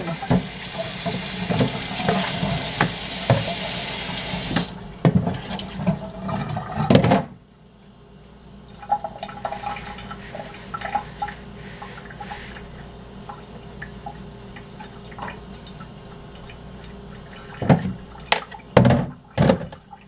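Rice being rinsed under running tap water in a kitchen sink, a steady strong gush that stops abruptly, then quieter sloshing and clinks.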